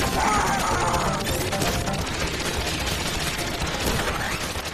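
Rapid, dense gunfire from a run-and-gun video game where the character shoots in eight directions while jumping and running, a continuous loud barrage of crashing shots and impacts with no pauses.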